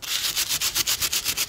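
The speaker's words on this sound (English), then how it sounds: "You want to sand it with some of this stuff. I think this is 600." 600-grit sandpaper rubs over an epoxy-coated boat hull in quick, even back-and-forth strokes, a close, dry rhythmic hiss repeating about six times a second.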